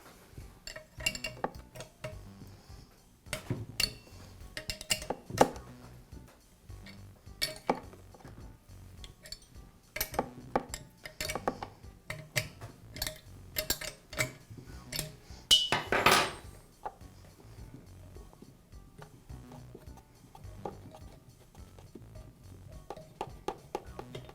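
A Bostitch air compressor's tank gauge being removed: scattered metallic clinks, taps and wrench clicks at close range, irregular and sparse, with no talking.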